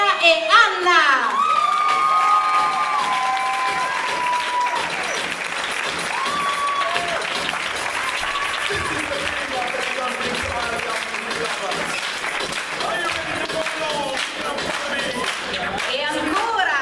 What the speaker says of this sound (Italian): vi chiedo un grande applauso per Andrea e Anna